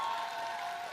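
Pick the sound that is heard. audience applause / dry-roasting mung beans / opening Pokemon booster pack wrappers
audience applause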